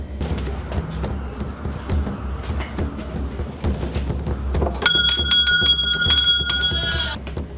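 At a team quiz game finale, a background of crowd murmur and shuffling gives way to a bright bell that rings repeatedly in a rapid, sustained metallic trill for a couple of seconds, then stops.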